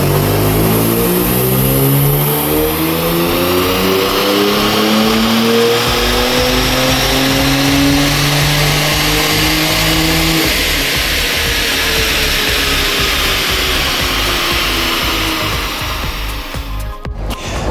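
A Kia Stinger with an upgraded Stage 2 exhaust revs hard on a dyno, its engine climbing steadily through the gears in rising, loud sweeps with a raspy exhaust note, close and continuous with no talking.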